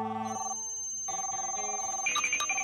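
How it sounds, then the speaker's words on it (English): Telephone ringing in a Scooby-Doo cartoon, a clear electronic ring with repeated bell-like tones, moderately loud, alongside other cartoon sound effects. "Now I'm hearing ringing"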